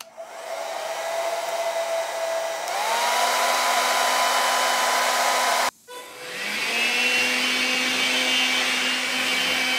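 A hair dryer runs with a steady loud whirring hum and airy hiss, shifts up in speed, cuts out briefly, then starts again at a high setting.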